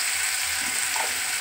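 Diced potatoes and onions fry in a pan with turmeric and a little salt, giving a close, steady sizzle with a faint stir partway through.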